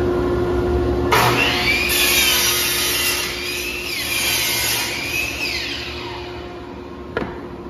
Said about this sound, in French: L'employé doit placer les planches de bois dans la scie à onglet.